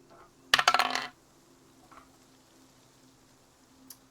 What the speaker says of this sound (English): I will roll her dice.